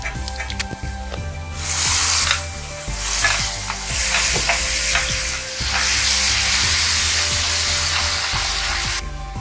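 Loud, wet sizzling bursts up as pureed tomatoes hit a hot pan, with stirring scrapes and clatter, rising and easing in waves.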